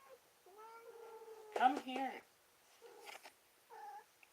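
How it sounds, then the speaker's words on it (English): Pet cats meow in a long drawn-out call and a few shorter ones nearby, with a short purring stretch between, while a person talks in the room. "I'm so sorry about my cats, they're so annoying sometimes."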